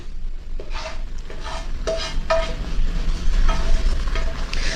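A spoon stirring tempering into boiled brinjal in a pan, a series of clear scraping and clinking strokes in an irregular rhythm, close and fairly loud over a low background hum.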